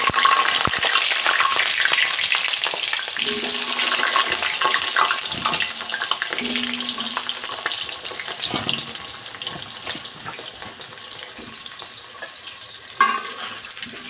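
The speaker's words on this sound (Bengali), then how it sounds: "এবার আমি এতে আলুগুলি সুন্দর করে ভেজে নেব।" Potatoes frying in oil with dry red chillies and Bengali five-spice, a continuous loud crackling sizzle with occasional stirring clinks and scrapes.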